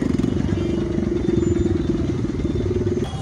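Heavy traffic crawls near a clock tower, with rattling motorcycle and engine rumble close by, constant and loud, while a voice talks over it.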